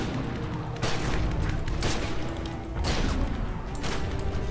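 Bombs go off repeatedly in the video game The Secret World, a few sharp booms and crashes rising above a dense, steady bed of game noise.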